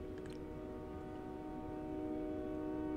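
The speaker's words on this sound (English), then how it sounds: "We got a train honking outside." A train horn sounds outside as a sustained, steady tonal blare that holds across the whole stretch, heard at a distance behind faint room noise.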